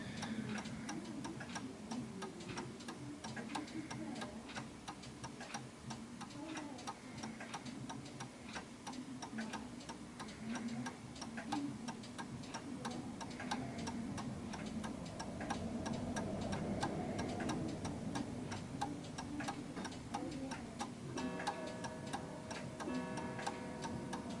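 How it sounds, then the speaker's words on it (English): Several mantel clocks tick together in the background, a steady, overlapping tick-tock that runs continuously at a moderate level with no voices present. "What you're listening to is the background of my own clocks"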